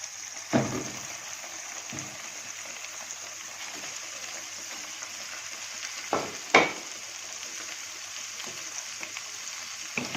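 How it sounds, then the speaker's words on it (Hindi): Chicken pieces lightly frying in oil in a kadai, a steady soft sizzle throughout with a few sharper spatters and stirring scrapes, close and fairly quiet with no voices. "ऑयल डालने के बाद चिकन ऐड करेंगे कढ़ाई में और चिकन को हल्का सा भून लेंगे"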